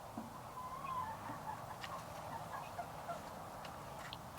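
Hens clucking inside a coop as young chicks are introduced to an older flock, soft intermittent calls at moderate distance over a steady background hum.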